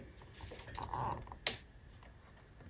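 Faint handwriting on paper during a manifestation exercise: soft scratching and light taps of a pen, quiet and close, with no talking.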